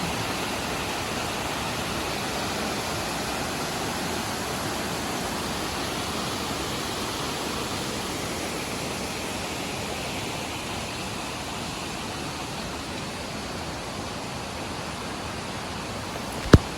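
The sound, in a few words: water flowing down from above into resort pool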